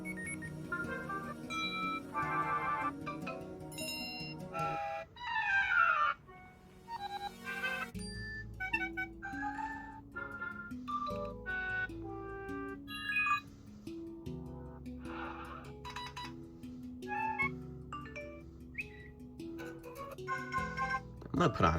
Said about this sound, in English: Let's also go through the alert tones.